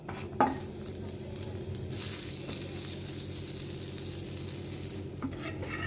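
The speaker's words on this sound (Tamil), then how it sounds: "இப்போ ப்ரெட்டை ரோஸ்ட்டு பண்ணுறதுக்கு பட்டர் போட்டுக்கலாம்" Butter-coated bread roasting in a pan, a soft steady sizzle running throughout with a few quiet scrapes and clicks of a utensil stirring or turning it, close by and fairly low in level.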